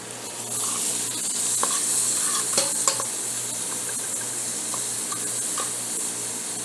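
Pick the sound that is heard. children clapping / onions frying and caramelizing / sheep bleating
onions frying and caramelizing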